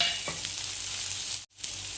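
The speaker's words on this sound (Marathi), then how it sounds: "त्यामध्ये ही मिरची टाकून घ्यायची शेवटला" Green chilli frying in a ginger-garlic paste tempering for a simple khichdi, with a steady close sizzle and occasional stirring scrapes, briefly cut by a moment of silence.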